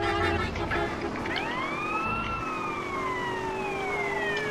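A vehicle siren in the game GTA San Andreas wails with rising and falling sweeps, fairly close and steady, over low engine rumble.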